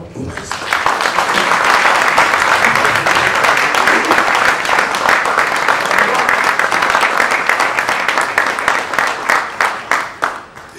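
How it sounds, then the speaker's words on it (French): Loud, dense audience applause at a Congolese rumba event, with sustained rapid clapping from a large crowd that holds steady for several seconds before thinning into a few last claps. "je souhaite vraiment vivement beaucoup plus d'applaudissements encore"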